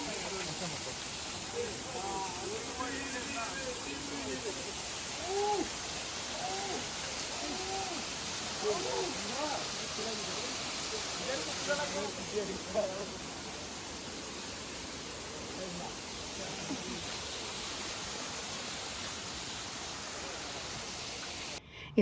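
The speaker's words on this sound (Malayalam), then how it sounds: "ഇവിടെയാണെങ്കിൽ നല്ലൊരു തണുപ്പും വെള്ളച്ചാട്ടത്തിൻ്റെ നല്ലൊരു ശബ്ദവും" Steady roaring rush of the waterfall at Thusharagiri in the forest, a broad even wash of water noise throughout, with voices talking faintly underneath at times.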